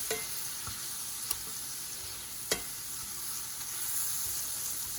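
Steak coated in soy sauce sizzles steadily in a cast iron skillet, a continuous crackling hiss with a few sharp pops and light clicks, close and fairly quiet, with no talking.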